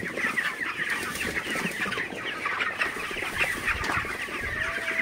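A flock of 27-day-old broiler chickens clucks continuously, many birds murmuring and calling at once, fairly close, with steady background ambience on a rainy morning and no talking.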